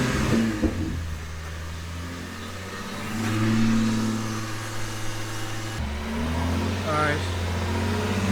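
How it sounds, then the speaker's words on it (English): Infiniti G37 engine revving during a Seafoam treatment, with a steady idle rising into a louder rev around the middle and continuing throughout, heard close up with some background noise. "Open it up. Hit the gas."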